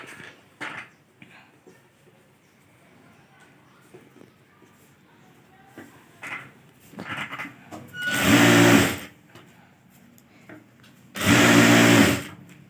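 A sewing machine stitches folded fabric in two loud sustained bursts of rapid mechanical whirring, with quieter handling sounds and short machine starts between them.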